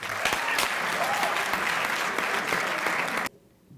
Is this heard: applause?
yes